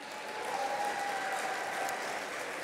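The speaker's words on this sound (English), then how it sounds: "let's give them a round of applause for their contribution to tonight's illustrious event." Audience applause at an annual fellowship dinner: steady, dense clapping from a large crowd in a hall, sustained throughout without talk.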